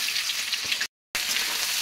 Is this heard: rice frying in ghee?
yes